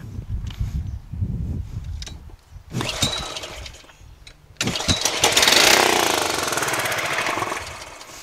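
A small Honda lawn tractor engine, from a Craftsman LT1000, sputters and coughs, stalls, then briefly roars to life with a loud, rough running sound, close up.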